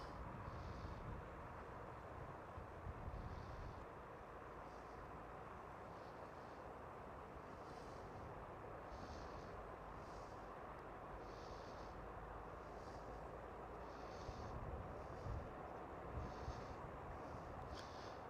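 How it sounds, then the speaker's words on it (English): A Transavia A321neo airliner taxiing at Schiphol airport in Amsterdam, heard as a steady, fairly distant broadband engine roar with wind rumble, continuous and unbroken throughout. "The Transavia A321 Neo taxiing there as well"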